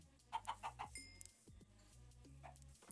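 Chickens cluck in a blocky Minecraft-style survival game as the player breeds baby chicks for a pen, a quick run of short clucks followed by scattered bird calls over a low steady game music bed.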